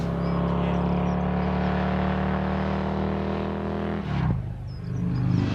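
An old British motorcycle engine runs loud and close, holding a steady drone before it cuts and revs again.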